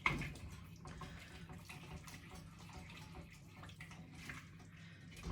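Saffron-infused wine poured into a pot of fish stew for bouillabaisse and stirred in, a faint continuous pouring and sloshing of liquid, close but soft, without talk.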